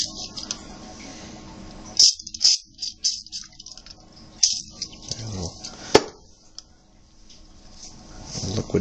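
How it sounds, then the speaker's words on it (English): Metal clicks and rattles sound as a 10-32 tap held in a hand tap handle is turned into a drilled hole, with scattered sharp ticks and short scrapes between quiet pauses. "we're going to tap the hole by hand"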